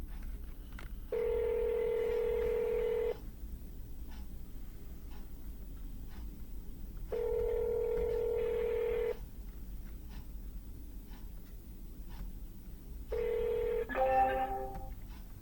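An automatic phone dialer places an outgoing call with three separate stretches of steady electronic tone, each lasting about two seconds, the last breaking into a quick run of dialing beeps, all fairly faint over low background hiss.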